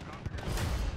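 A single loud, rumbling blast erupts during a 32 vs 32 Call of Duty Modern Warfare match, filling the whole second with dense, booming noise and a faint voice underneath.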